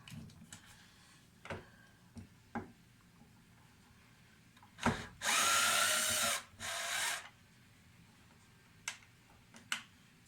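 A power driver fitted with a Torx T15 bit spins out a screw from a Camaro LED headlight assembly, two short whirring bursts amid scattered small clicks and taps of handling parts, close and fairly quiet.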